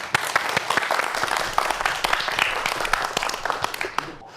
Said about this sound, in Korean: 김도경 교수님의 강연 박수로 청해 보도록 하겠습니다